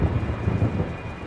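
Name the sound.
thunder crack sound effect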